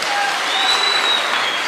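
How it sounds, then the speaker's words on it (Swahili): A crowd at a Kenyan public event applauds for the President, a dense, steady burst of clapping that fills the short moment without any talk over it. "Wapi makofi ya Rais?"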